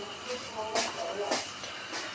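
Gram-flour pakoras simmer in boiling water for a home-style curry, giving soft hissing, bubbling swells that rise and fall in a few bursts at close range.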